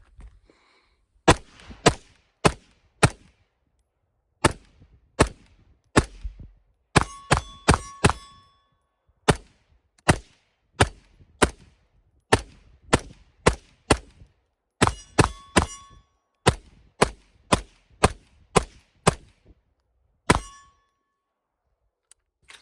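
Smith & Wesson M&P 15 Sport 2 rifle firing a long string of sharp, loud gunshots, some spaced singly and others in quick clusters, each with a short ringing tail, no voices.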